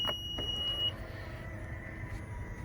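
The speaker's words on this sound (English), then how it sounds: "Here comes the beep." A single high electronic warning beep sounds briefly inside a Honda Passport Elite over a low idling engine hum.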